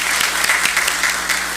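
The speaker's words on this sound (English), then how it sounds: "can I please get another round of applause for these beautiful voices up here?" Sustained audience applause fills a church hall, dense steady clapping with a few louder individual claps standing out, continuous for the whole stretch.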